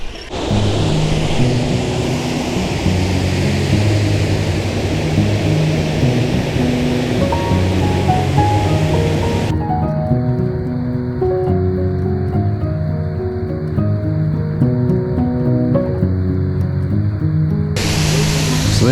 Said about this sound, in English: Hilton Falls Waterfall.